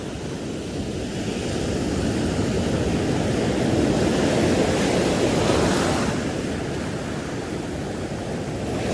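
Rough sea waves break continuously on the shore during a fishing trip, a dense, close roar that swells slightly in the middle and stays steady throughout with no voices.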